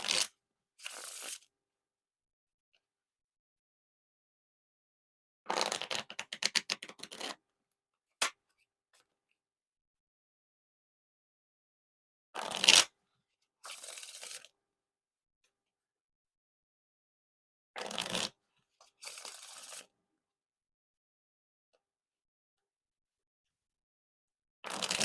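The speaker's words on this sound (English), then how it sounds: "Now time for the riffle shuffle or bridge shuffle." Ellusionist Zebra King Slayers playing cards are riffle and bridge shuffled in several short, crisp bursts of rapid flutter, close and clear, separated by long silent gaps.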